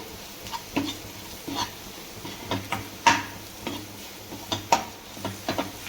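A spoon scrapes and knocks around a pan of dal fry masala in repeated uneven strokes, close and fairly quiet, over a faint steady sizzle.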